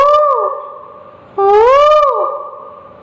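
A man mimics a koel's call with his voice, two rising, tonal whistled notes, loud and close, separated by a brief pause.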